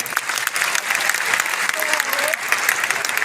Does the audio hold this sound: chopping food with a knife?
no